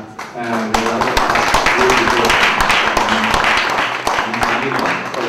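Audience applause fills the whole stretch, a dense steady clapping with a voice talking over it.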